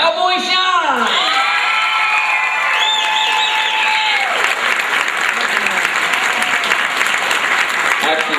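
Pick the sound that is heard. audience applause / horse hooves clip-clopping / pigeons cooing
audience applause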